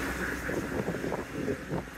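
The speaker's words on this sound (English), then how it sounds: "The strongest winds this morning so far, the gusts are somewhere around 25 miles an hour" Strong crosswind gusts of roughly 25 mph buffet the microphone in a steady, broadband roar during a long-distance journey across Nicaragua, with swelling pulses and low rumble throughout.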